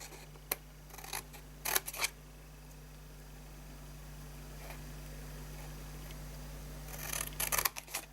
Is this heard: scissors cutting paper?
yes